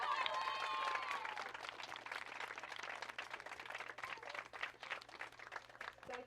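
A crowd at a high school soccer senior night claps and cheers for a senior player. The applause is steady and moderately distant in an open-air stadium, with a whistle-like tone and a voice at the start.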